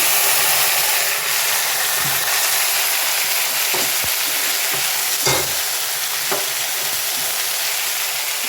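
Onions and boiled taro flowers fry in a pan with dried fish and chopped chilli, giving a loud, steady close sizzle broken by a few short scrapes and clinks of stirring.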